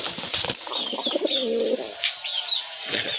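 Native deshi pigeons cooing at close range, several soft throaty coos in a short burst with faint chirps and rustling around them, no talking.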